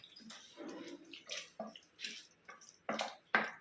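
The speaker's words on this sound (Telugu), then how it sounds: "ఇప్పుడు ఇది చింతపండు రసం వేస్తున్నాను." Tamarind juice is poured into sambar in a quiet series of soft liquid splashes and drips, each brief and close.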